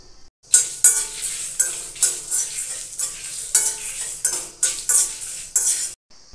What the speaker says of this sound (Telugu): చివరిగా కరివేపాకును కూడా వేసి మరో 5 నిమిషాలు ఫ్రై చేసుకోవాలి.